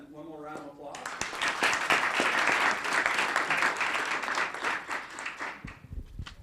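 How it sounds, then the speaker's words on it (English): A meeting audience at a town council session breaks into a round of applause, a dense clapping that swells quickly, holds for several seconds and then tapers off, with a voice heard briefly near the start. "And one more round of applause."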